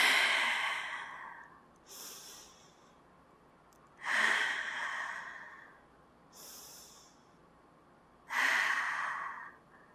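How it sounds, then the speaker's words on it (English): Deep yoga breaths during a Warrior Two pose, three slow, close, airy exhales through the nose and mouth, each a long whooshing sigh separated by quiet pauses. "Three breaths, please."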